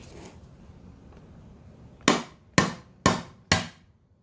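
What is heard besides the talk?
tapping engine part with nylon teardown hammer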